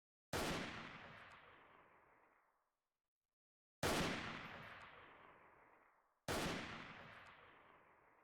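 Three loud, separate gunshots in the shooter video game Freeman: Guerrilla Warfare, each a sharp crack with a long decaying echo tail, evenly spaced over several seconds with no talking.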